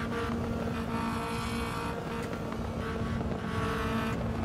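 A race car in the Assetto Corsa driving game roars at steady high revs, a loud continuous engine drone with a constant whine running throughout, and no voices.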